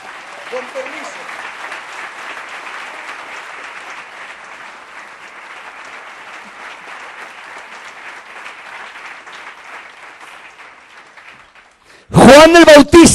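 A church congregation applauds steadily for about twelve seconds, a broad sustained wash of clapping that fades near the end before a loud voice cuts in.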